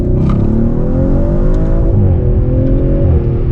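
An Audi RS5 engine roars loudly and continuously close by, its pitch rising as it accelerates, with brief dips where gears shift.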